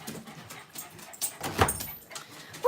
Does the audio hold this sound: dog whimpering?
yes